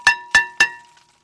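A hammer strikes the rear brake rotor of a 2007 Chevy Tahoe three times in quick, evenly spaced succession. Each loud metallic clang rings briefly before the next blow, then the clip falls quiet.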